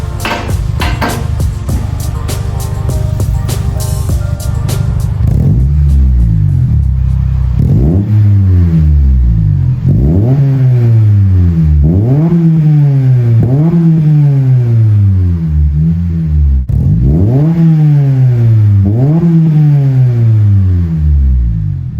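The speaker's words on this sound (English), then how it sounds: "I'll rev it out for you." A Honda Civic Si fitted with a new exhaust revs hard again and again, each rise of engine pitch dropping back to idle, loud and close with no voices.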